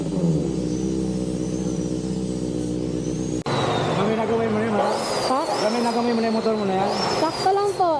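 A car engine rumbles deeply through a newly fitted exhaust pipe, idling steadily and then rising in a few rev bursts, loud and close, with a voice talking over part of it.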